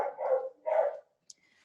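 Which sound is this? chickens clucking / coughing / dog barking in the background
dog barking in the background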